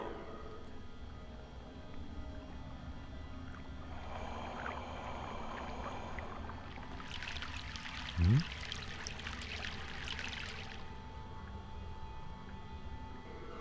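Boat crossing a river in the video game Broken Sword: soft watery trickling and lapping over a low steady ambient bed, with a brief hiss of splashing midway and a single short low thump.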